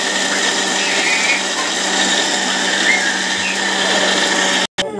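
A mixer grinder whirring loudly and steadily at close range for several seconds, then cutting off abruptly before briefly starting again, with no voices.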